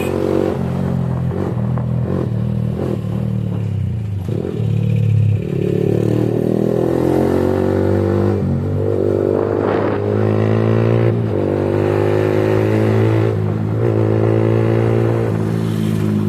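A Yamaha V3 motorcycle with an aftermarket exhaust revs hard and repeatedly, its deep exhaust roar climbing and falling in loud, close bursts throughout.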